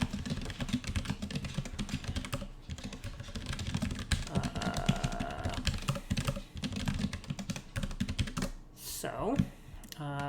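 Dense, rapid computer keyboard typing with steady clatter of keystrokes throughout, a person talking faintly underneath, and a brief swooping tone near the end.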